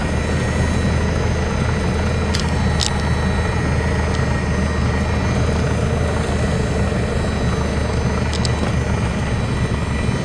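A rescue helicopter flying nearby, its rotor and engine making a loud, continuous drone that stays steady throughout, with no talking over it.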